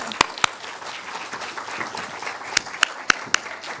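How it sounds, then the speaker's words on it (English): Scattered, close hand claps ring out over a low murmur of room noise, a handful of sharp individual claps rather than a full ovation. "Let's give them a round of applause"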